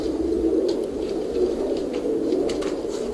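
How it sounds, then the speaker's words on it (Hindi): Iranian Khatang pigeon with a black tail cooing in a steady, continuous low murmur, close and moderately loud, with faint rustling and patter over it and no talking. "बहुत ही हसीन कबूतर है"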